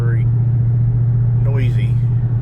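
A Dodge Charger Hellcat cruising with a steady, low, subdued engine drone and road rumble from inside the cabin, while people talk over it.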